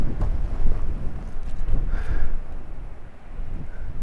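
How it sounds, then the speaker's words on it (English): Strong outdoor wind buffets a microphone on a shooting range, heavy low rumbling gusts that swell and fade in uneven surges, loud and close, with no talk. "Holy crap, this wind."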